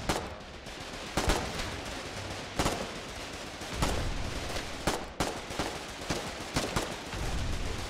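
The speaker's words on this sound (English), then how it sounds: "Keep shooting, keep shooting." Gunfire in the war game Foxhole: repeated sharp shots and bursts, some close and loud, others further off, in an irregular rhythm over a constant background rumble of battle, with no talking.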